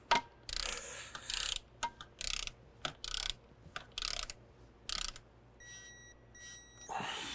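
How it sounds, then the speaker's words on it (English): A torque wrench ratchets a bolt down on a Chevy 1.4L turbo engine, giving a dozen short, close, crisp ratcheting bursts with brief pauses between them. A few faint electronic beeps sound near the end. "I'll torque this down to our 71 inch-pounds."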